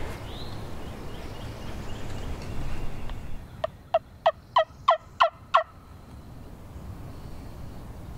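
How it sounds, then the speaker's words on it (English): A wild turkey gobbles in a rapid burst of about six sharp rattling notes, fairly close, against quiet outdoor ambience. "he's only gobbled twice in 45 minutes"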